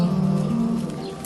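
Pigeons coo nearby in a low, throaty murmur that rises and falls continuously, fairly loud and close, with no voices.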